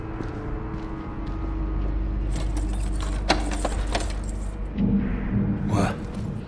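Keys jangle in Dishonored 2, a loud metallic rattling over a low, steady background rumble that builds in the middle and swells again briefly near the end.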